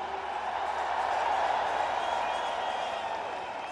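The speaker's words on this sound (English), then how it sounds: "a big round of applause to all you guys." A large audience applauds at a community event hosted in Dubai around an appearance by Prime Minister Narendra Modi, a dense, steady wash of clapping that swells slightly mid-way and stays fairly distant, with no talk over it.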